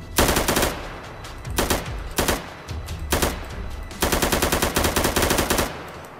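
Bursts of automatic gunfire from guns in a Minecraft weapons mod, loud rapid rattling volleys separated by short pauses, with one long sustained burst near the end.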